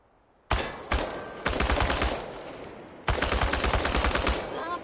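Automatic gunfire aimed at cans in Chernobylite, loud close bursts starting abruptly after silence: two short volleys, a longer stream, then a final sustained burst.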